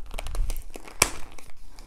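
Plastic packaging of an embroidery kit with a zip bag is crinkled open by hand indoors, with soft close rustling and one sharper crackle partway through.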